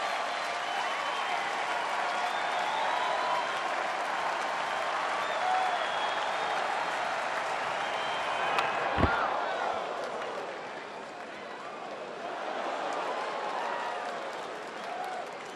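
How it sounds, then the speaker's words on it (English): A large baseball crowd at a Marlins–Cubs game swells into a loud, sustained ooh and murmur after a 102 mph pitch, with applause, a sharp crack near the middle, and a brief dip before the noise rises again. "Crowd oohing and eyeing as they see the pitch speed readout on the video board."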